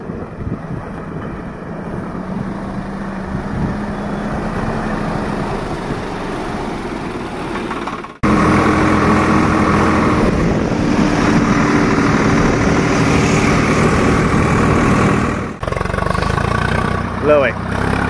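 A Swaraj 744 XT tractor hauls an overloaded trolley, its engine droning loud and steady at close range with heavy wind buffeting, then a sudden louder, rougher stretch as the load strains.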